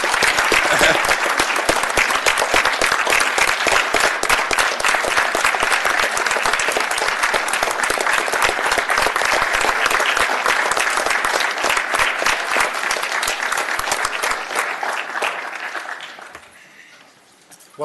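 Applause at an assembly meeting: a room of people clapping steadily and fairly loud for around fifteen seconds, then tapering off into near silence at the end.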